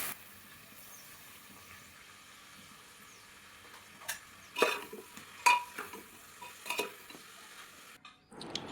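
Onion, tomato, garlic, ginger and green chilli stirred in ghee in a pressure cooker, a quiet sizzle with a few sharp scraping and clinking spoon strokes in the second half, no voices.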